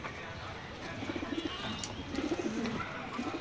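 Racing pigeons coo during feeding, with soft bursts of throaty, bubbling calls repeating in uneven clusters over a quiet background, near and gentle.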